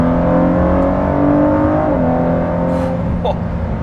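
The V6 engine of a 2019 Ford GT supercar roars steadily under partial throttle, its deep harmonic tone rising slightly as it accelerates, loud and close throughout.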